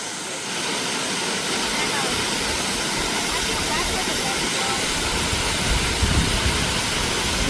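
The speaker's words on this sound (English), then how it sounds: "The waterfall." A waterfall rushes in a steady, dense roar of falling water outdoors in nature, loud and continuous throughout, with people faintly talking beneath the noise.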